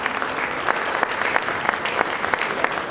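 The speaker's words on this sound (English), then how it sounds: "A round of applause for Jean-Louis Ekra." An audience at a West African business leader awards ceremony claps steadily for a winner, dense even applause filling the room without talk.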